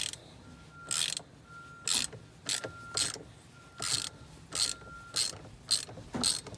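Ratchet loosening a steering wheel bolt on a 2018–2022 Honda Accord, a close series of about nine short, sharp clicking bursts in an uneven rhythm with quiet pauses between strokes.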